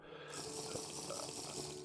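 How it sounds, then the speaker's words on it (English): Fresh water is scooped up in the block-building survival game TerraFirmaCraft, giving a brief, soft, steady watery rush that lasts under two seconds. "I'm going to also grab some fresh water"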